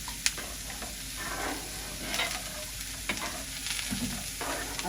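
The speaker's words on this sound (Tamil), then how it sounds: "ஒரு கொதி வந்தோடனே நாங்கள் வந்து மீனை போடுவோம்" Fish pieces go into a boiling fish curry, which keeps up a continuous bubbling sizzle with soft stirring scrapes and a couple of brief knocks.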